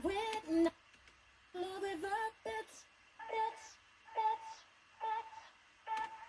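A sung vocal phrase with a single word echoed back several times afterward, the repeats spaced evenly and fading slightly, like a long delay throw.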